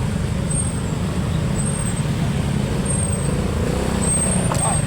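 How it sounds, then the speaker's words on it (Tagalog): Heavy road traffic in Tansa rumbles steadily nearby, a low continuous drone of engines with occasional high whines from passing vehicles, heard at a roadside fuel stop. "Sobrang traffic dito sa Tansa."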